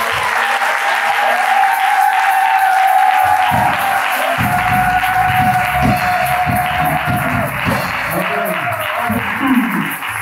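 Sustained applause from a church congregation during a French-language worship service, steady and dense throughout, with a held organ or keyboard tone and some murmured voices mixed in.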